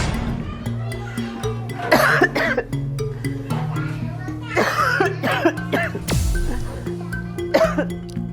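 A patient with stage 4 lung cancer coughs in several harsh, forceful bursts, with children's voices and chatter in the background.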